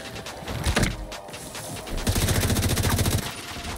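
Gunfire in The Division 2 video game: scattered heavy shots at first, then a dense burst of rapid automatic fire at close range, loud and crackling, without talk.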